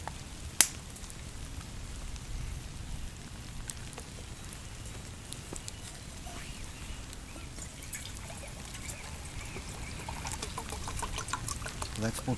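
Water trickles and splashes as it is poured into a pot for coffee over a campfire by a river on a rainy day, faint and close, under light outdoor ambience.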